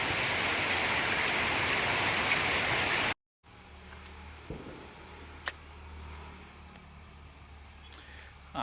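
Rain falls outside a home as a dense, even hiss for about three seconds, then cuts off abruptly, leaving a quieter background with a few faint knocks.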